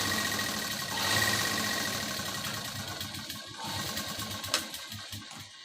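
Domestic sewing machine running steadily as it stitches a strip along the edge of a blouse, a close continuous mechanical whir with a slight rise and dip in speed.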